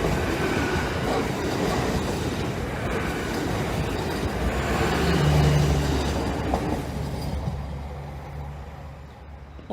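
A Class 800 express train of ten carriages runs along the East Coast Main Line on a diversion via Lincoln, giving a steady, loud rumble with clattering wheels and a faint squeal, fading slightly toward the end.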